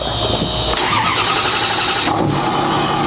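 A diesel truck engine fitted with large 6.4 injectors cranks and fires up, then settles into a loud, rough, rowdy idle close by, with a brief rev near the end.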